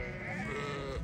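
Lambs bleating on a highland pasture, a short, close, wavering bleat filling the moment on its own.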